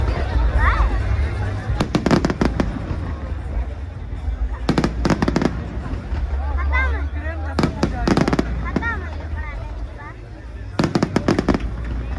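Fireworks at the Ayodhya Deepotsav festival, repeated clusters of sharp crackling bursts and pops rising over a crowd, with people talking nearby between the volleys.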